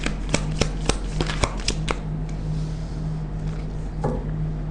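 Tarot cards being shuffled by hand, a run of crisp riffling snaps and slaps in the first two seconds, then softer sliding and one more flick as cards are drawn, close and with no speech.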